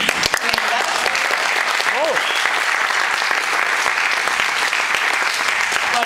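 Loud, sustained applause from the audience at a concert at Radio UNAM in Mexico, saluting a band member. The dense clapping runs unbroken throughout, with a brief whoop rising near the start.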